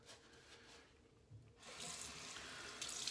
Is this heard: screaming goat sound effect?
no